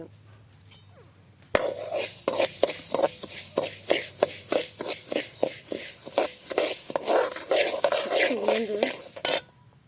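Urad dal roasts in a pan with a steady run of close, rhythmic scraping and clattering strokes from a spatula stirring against the metal. A faint sizzle sits underneath, and the strokes stop abruptly at the end.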